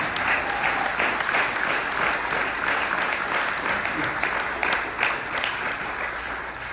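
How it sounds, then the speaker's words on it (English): An audience at a mayoral candidate forum in Lebanon, Tennessee, gives a sustained round of applause, with many hands clapping evenly and some faint voices mixed in. "Let's give all the candidates a big round of applause."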